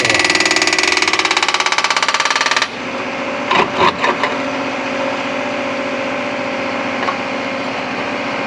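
A JCB Pothole Pro machine cuts away the ramped edges of a road pothole: a loud, rapidly pulsing grinding roar that stops abruptly, followed by a lower running engine with a few brief knocks.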